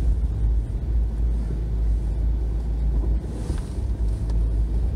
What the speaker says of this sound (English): Got a big tractor pulling out.